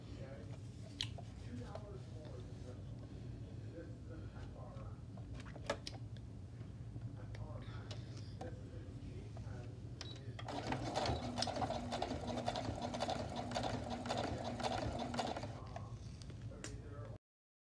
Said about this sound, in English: now I'm going to take this to my machine and sew along the edge